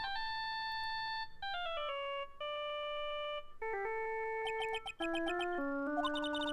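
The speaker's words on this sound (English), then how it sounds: "All of a sudden, the phone began to ring." A cell phone rings in the Phoenix Wright Ace Attorney: Justice for All video game with a clear, tonal ringtone melody of stepped beeping notes, loud and alone.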